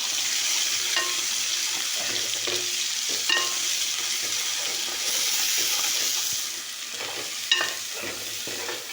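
Ground masala paste roasting in a hot pan gives a steady, close sizzling hiss with occasional soft stirring scrapes, fading slightly toward the end, no voices.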